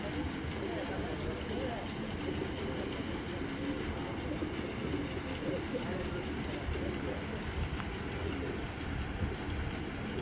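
Pigeons in a loft of fancy breeds, including a silver-throated hen and a breeding cock, coo amid a steady, dense wash of background noise that runs the whole time.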